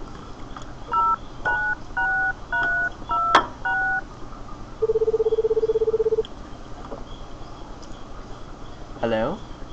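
Phone keypad tones beep in a quick run of digits in the video game Paranoiac, followed by a long steady ring tone, all fairly loud over a faint background hum.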